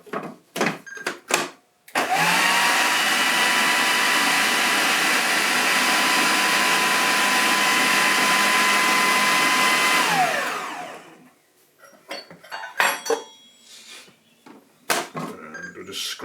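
Electric mixer beating batter for gluten-free rice flour Easter buns, a steady loud whirring hum lasting about eight seconds that winds down at the end, with clatter and brief talk before and after.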